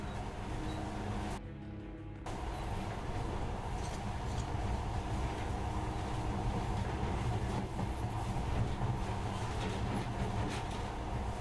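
A monorail train runs in the video game Metro Last Light, a continuous low rumbling roll with a faint rhythmic rail clatter that stays steady throughout.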